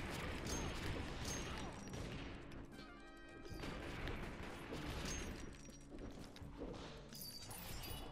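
A shooter video game plays a busy, continuous run of gunfire, with repeated shots, crashes and impacts layered into a dense, fairly quiet mix.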